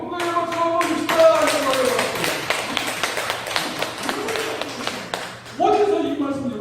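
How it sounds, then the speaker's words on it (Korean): Church congregation applauding during a sermon, a dense, steady patter of many hands clapping for several seconds, fairly close and loud, with music and voices sustained underneath. "하나님 앞에 영광의 박수 한번 주시다"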